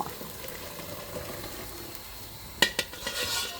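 A spoon stirs mackerel fish curry sauce in a wok, a soft continuous scraping and bubbling, then a few sharp metallic clinks of the utensil against the pan near the end.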